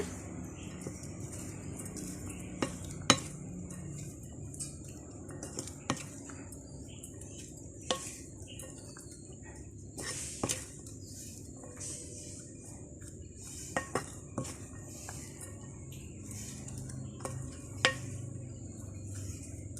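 Fish vada mixture with chopped chillies gets stirred in a bowl, quiet scraping and soft clinks of a spoon against the dish with scattered sharper knocks over a faint background hum.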